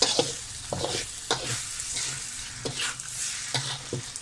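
Cooked rice tossed and stirred in a pan with light soy sauce over low heat, a soft sizzle broken by irregular scraping strokes of the spatula, close and fairly quiet, no voices.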